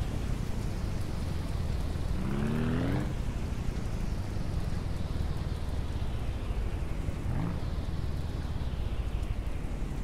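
Steady rain pours down in the video game Ranch Simulator, a dense continuous hiss over a low rumble, with a couple of faint animal-like calls breaking through.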